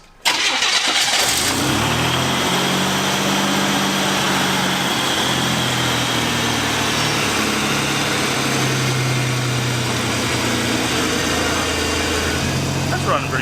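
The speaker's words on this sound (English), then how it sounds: "That's running pretty good now." A barn-find Buick Grand National, restarted after sitting for years, cranks and catches at once, then runs at a steady, loud, close idle that holds without stumbling.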